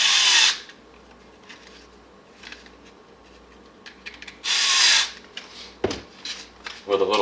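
A Bauer handheld power drill driving screws into a Kydex holster, two short loud whirring bursts separated by quiet handling and small rustles, with a brief knock near the end.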